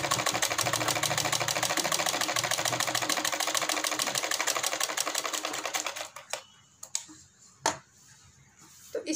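A sewing machine stitches the hem of a salwar mohri in a steady, fast, continuous run for about six seconds, then stops and restarts in a few short bursts.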